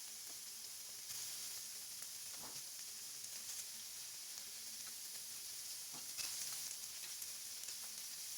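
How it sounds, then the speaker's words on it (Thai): Thinly sliced pork belly with garlic sizzling in a pan over low heat, a soft steady hiss with occasional faint stirring scrapes. "นำหมูสามชั้นมาแล่บางๆ แล้วก็นำไปจีในกระทะครับ"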